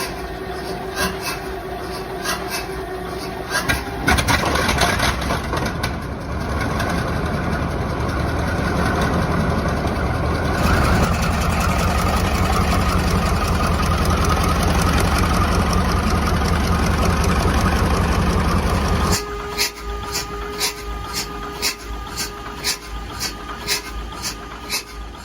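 A 2,000 horsepower Krauss-Maffei ML 4000 diesel locomotive prime mover, a 1966 Southern Pacific rebuild, runs loud and close with a steady heavy throb, rising in intensity midway before settling back to a rhythmic idle.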